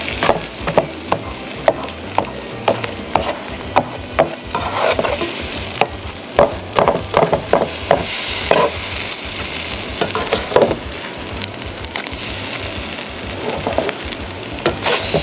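Scrambled eggs sizzle and fry in a pan, a steady crackling hiss broken by repeated sharp scraping clicks of a utensil stirring and pushing the eggs, close and continuous with no talking.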